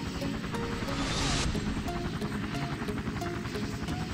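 A helicopter in the Minecraft video game drones with a continuous loud rotor hum and rhythmic throbbing that holds steady for several seconds, with no speech over it.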